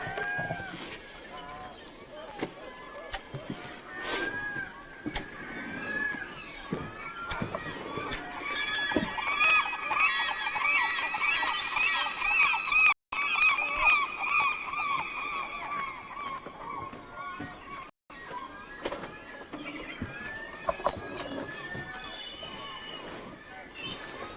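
Distant gull calls ring out over a long stretch of outdoor ambience at a river in Katmai National Park, Alaska, with a voice speaking in the background.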